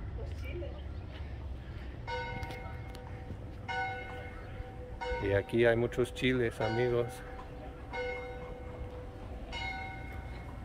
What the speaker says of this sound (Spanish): se oye que toca la campana de la iglesia de San Miguel